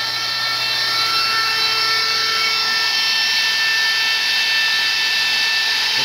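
Metal lathe turning a rosette with a hydraulic tracer attachment, giving a steady, continuous whirring machine hum with high-pitched tonal whine and constant loudness throughout, no voices.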